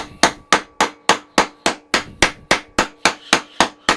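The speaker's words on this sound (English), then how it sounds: "there's teardrop hammers" Teardrop hammer beating on metal while shaping a Freddy Krueger glove in a garage, with about thirteen sharp, ringing strikes at a steady, even rhythm, loud and close with no talking.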